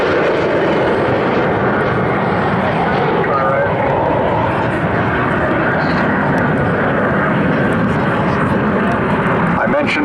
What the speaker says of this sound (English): Stand by now as they prepare for a few additional insights into the war fighting capability of these two aircraft.